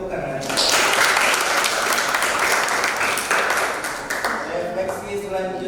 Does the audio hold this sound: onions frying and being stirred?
no